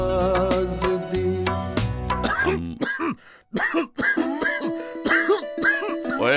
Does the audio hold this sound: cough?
yes